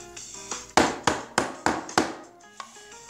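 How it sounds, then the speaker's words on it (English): A hammer strikes about five times in a steady rhythm, each sharp close blow ringing out, with a lighter tap near the end and no voices. "gotta get my hammer"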